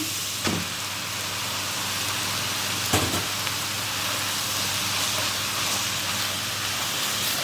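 Steady hiss of onions frying in a hot pan fills the clip, with a couple of brief clatters or stirs near the start.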